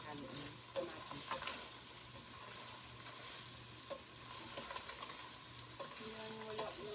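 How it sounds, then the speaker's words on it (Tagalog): Frozen garlic frying in oil in a pan for beef chili, stirred steadily: a constant close sizzle with occasional scraping spoon strokes, and someone talks over it now and then. "Haluin ko muna bago ko halo yung tomatoes."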